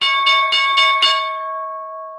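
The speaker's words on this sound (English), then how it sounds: "the bell's going to go off in a minute" A bell rings five quick strikes at the market open, bright and loud, then its tone hangs and slowly fades alone.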